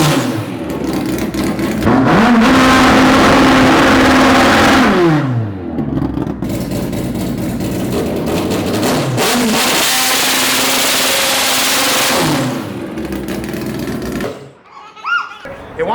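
A 500HP naturally aspirated Honda-powered drag car engine revs hard in two long loud blasts, pitch climbing, holding and falling, with a raspy roar and a brief lull between them, with voices briefly at the end.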